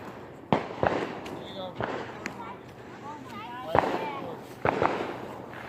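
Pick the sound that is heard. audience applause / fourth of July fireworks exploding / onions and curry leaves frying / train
fourth of July fireworks exploding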